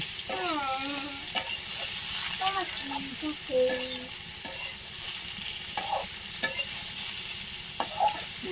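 Vegetable curry frying with onion and garlic in a home kitchen, a steady sizzle running throughout while a utensil stirs and scrapes the pan in scattered strokes, with voices and a bird-like chirp heard intermittently over it.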